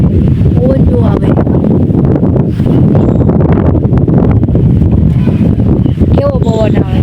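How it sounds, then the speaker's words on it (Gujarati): Strong wind blowing steadily outdoors, a loud continuous rushing roar that buffets the microphone throughout, with people talking underneath. "કેવો પવન આવે."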